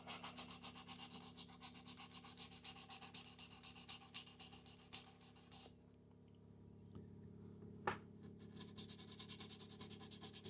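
A guitar being converted from left- to right-handed gets scrubbed with a hand tool, giving a faint, close, rhythmic rubbing and rasping that pauses briefly midway, then resumes.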